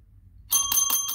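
A small stolen brothel bell rings about four times in quick succession, bright and close, after a moment of near silence.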